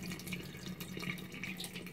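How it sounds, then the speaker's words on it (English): Water leaks from the valve of an electric unvented hot-water cylinder into the tundish, making a steady, close trickling and running sound that continues without a break. "it's leaking out this valve here out into the tun dish. You can hear it running like that"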